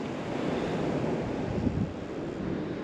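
Steady wash of surf breaking on Sandilands beach on the UK's East Coast, a continuous broad roar of waves with wind buffeting the microphone throughout, no voices.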